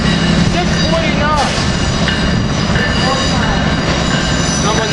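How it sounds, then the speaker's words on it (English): Amtrak ACS-64 electric locomotive number 649 leads a passenger train rolling past near 30th Street station, a steady loud rumble with wheel and rail noise and faint squeals, while people talk excitedly nearby. "Here we got ACS-64 649 leading the train"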